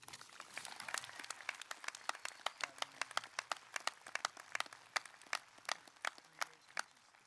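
Audience applause for graduation speakers at a Class of 2020 graduation ceremony, a small crowd clapping steadily for several seconds with a few individual claps standing out.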